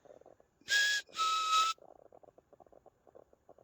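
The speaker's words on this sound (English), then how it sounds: "There was a tap And a slight whistle noise." Two short, bright whistling hisses sound close together, like a steam whistle, set against faint, scattered ticking and chirping in an otherwise quiet background.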